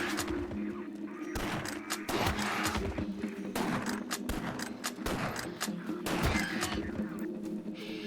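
Repeated rifle shots in the video game Silent Hill: Downpour, sharp bursts recurring every second or so over a steady droning background, fairly loud and close.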